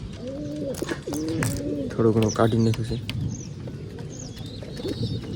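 Pigeons coo in soft, repeated throaty calls close by, while a person talks over them and other birds chirp faintly.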